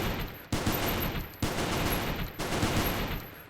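An L6 SAW machine gun in a video game fires sustained loud automatic bursts at mechs, three long strings of rapid shots separated by brief pauses.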